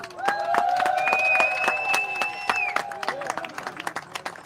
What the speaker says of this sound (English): let's give them another big applause